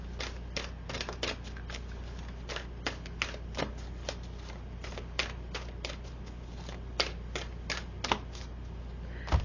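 Oracle cards from a Moonology deck shuffled and handled, giving a steady run of soft, close card clicks and flicks with no talking.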